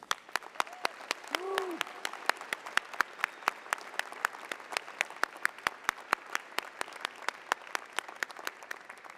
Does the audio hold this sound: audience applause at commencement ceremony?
yes